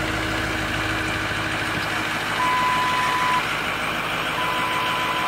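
A truck's reversing alarm beeps repeatedly in a steady rhythm over a loud idling diesel engine close by, a 2017 Ford F250 with a 6.0 Powerstroke.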